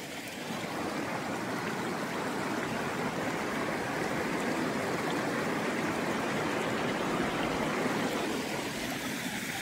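Cold natural spring water pours steadily while a container is filled outdoors, a continuous close rushing splash with no pauses.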